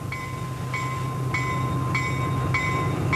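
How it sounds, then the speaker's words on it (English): A diesel locomotive train on the New Hope Steam Railway, a steady low engine rumble with a sustained whining tone and rhythmic recurring metallic pulses roughly every half second, fairly close and continuous. "for that reason we're using the diesel. We're substituting the steam engine"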